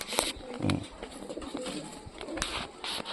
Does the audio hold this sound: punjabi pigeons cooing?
yes